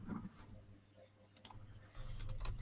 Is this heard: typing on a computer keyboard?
yes